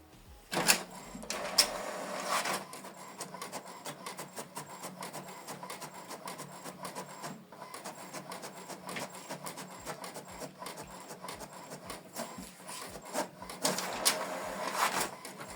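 An HP Deskjet 2922 inkjet printer prints a document, giving a close, steady mechanical whir with rhythmic ticking and clunks of the paper feed and print head moving across the page.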